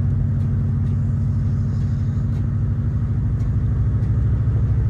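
A turbocharged V8 police car engine drones steadily while driving, a loud continuous low rumble with harmonic throb holding even throughout, no talk over it.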